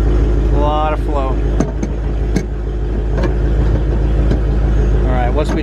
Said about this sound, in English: Successful engine start.